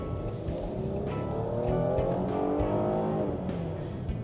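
Jeep Cherokee with a 9-speed automatic accelerating, a muffled engine drone rising in pitch from inside the cabin, with faint road noise and no voices.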